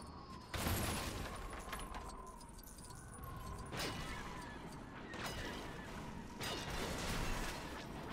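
Blaster fire strikes stormtroopers in the LEGO Star Wars: The Force Awakens game, during the Starkiller escape level. Bursts of rapid shots and crunching impacts come in several waves at moderate, somewhat distant volume.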